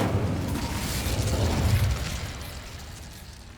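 An Incendio fire spell cast in the video game Hogwarts Legacy, heard as a loud, full-bodied fiery burst that swells for a moment and then trails away over a few seconds.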